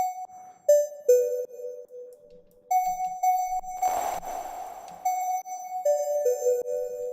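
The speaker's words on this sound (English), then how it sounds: "So that's just what the reverb would sound like." Synth tones processed through a reverb effect in the Phase Plant synthesizer: sustained electronic notes with a long ringing tail, stepping between pitches, with a brief noisy swell midway, alone with no talking.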